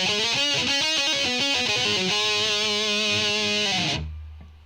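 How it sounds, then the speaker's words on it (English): A Davison electric guitar plays through a Hoerev pedal set to full distortion, a loud, close run of gritty sustained chords and notes that rings out before cutting off into near silence. "Here it is on full distortion with the other 2, the tone and the volume set to mid."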